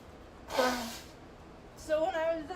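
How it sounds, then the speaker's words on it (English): A person blows their nose in a short burst of noisy nasal air, then a second breathy, tonal honk follows about a second later, close and fairly quiet. "I need to blow my nose."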